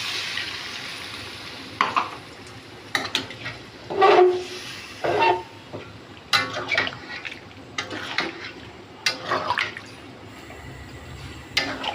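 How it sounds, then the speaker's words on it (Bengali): Water goes into a hot pan of chicken curry with jackfruit seeds in short bursts of splashing and sizzle, broken by the clatter of stirring against the pot. "পানি ঢেলে দিব"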